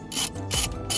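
A socket wrench turns a 24mm nut while working on the steering column of a VW T4, making three quick, close ratcheting clicks with short pauses between the strokes.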